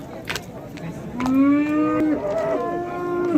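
Several cattle, including young bullocks, moo loudly and close by at a livestock market, long drawn-out calls overlapping one another against a busy background murmur.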